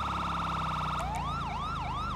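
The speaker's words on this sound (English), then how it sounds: "My sirens are messed up." Police car siren in a roleplay driving game, a steady fast warble that switches to a slower rising and falling wail, loud and close over a low engine hum.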